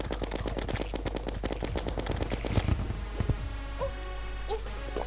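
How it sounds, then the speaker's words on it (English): Rapid, evenly spaced gunfire from the Minishark in the video game Terraria, a fast rattling burst that fills the first half and then gives way to softer in-game effects and tones. "Might as well waste some of my mini shark bullets."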